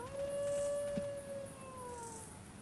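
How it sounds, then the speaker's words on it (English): A dog howls in the outback survival game Walkabout, a long wavering tone that rises and slowly fades, heard at moderate distance over quiet ambient background. "It sounds like the dog's over this way"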